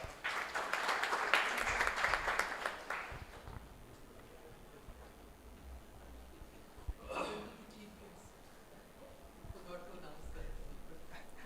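Audience applause at a valedictory ceremony in a hall, a burst of clapping for about three seconds that fades out, followed by quieter room noise and brief murmurs.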